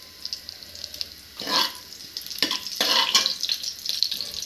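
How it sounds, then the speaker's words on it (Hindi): Cumin seeds hit hot oil for Indian cooking, setting off a sudden bright sizzle that swells in a few loud bursts and crackles close by, with no speech. "अब इसमें डालेंगे 1 टीस्पून जीरा। जीरा थोड़ा सा ब्राउन हो जाए"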